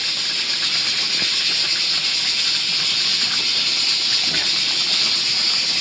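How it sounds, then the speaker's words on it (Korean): A camping pot of kimchi stew with pork and tofu boils on a stove, with a loud, even hiss and bubbling rush that holds steady throughout. "그리고 끓이면 됩니다"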